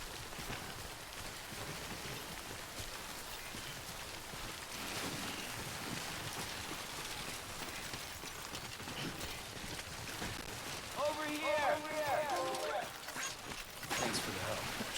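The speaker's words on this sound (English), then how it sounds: "It just rained and rained." Rain falls steadily in the video game Death Stranding, a soft, even wash of noise that rises slightly toward the end, with a voice talking over it.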